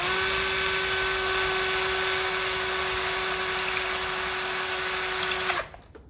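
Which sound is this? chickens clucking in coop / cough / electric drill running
electric drill running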